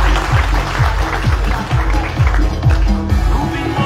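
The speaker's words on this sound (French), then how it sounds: "Je vous demande de l'applaudir une fois de plus." An audience applauding at an honour ceremony for distinguished airport authority employees, loud continuous clapping close by, with a rhythmic thumping pattern running underneath.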